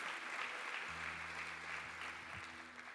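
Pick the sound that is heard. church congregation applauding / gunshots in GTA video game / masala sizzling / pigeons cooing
church congregation applauding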